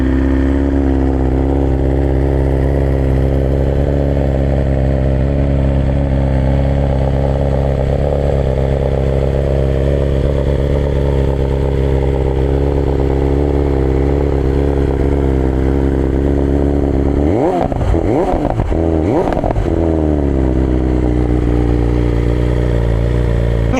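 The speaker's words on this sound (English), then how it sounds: "Let's get a cold start for you guys." A motorcycle idles after a cold start on a cool 50-degree day, its engine a loud, steady low rumble close by, with a quick pair of throttle blips near the end before it settles again.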